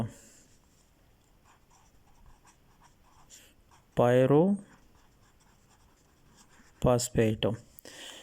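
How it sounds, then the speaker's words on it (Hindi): Hand writing with a pen or marker during a chemistry lecture on cellular respiration, a soft continuous scratching that runs through most of the stretch, with a voice speaking briefly twice over it. "सो यहाँ पर मैं इसके लिए 2 लिखता हूँ।"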